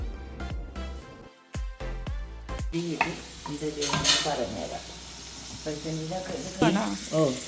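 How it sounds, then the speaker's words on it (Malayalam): Spices, turmeric and coriander powder, stirred into mutton ghee in a hot pan, with scraping strokes and steady sizzling frying that starts after a few sharp knocks, while people talk over it. "സോ വി ആർ മിക്സിങ് മഞ്ഞൾപ്പൊടി, മല്ലിപ്പൊടി"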